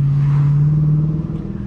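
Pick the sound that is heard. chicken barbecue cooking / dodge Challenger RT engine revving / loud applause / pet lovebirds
dodge Challenger RT engine revving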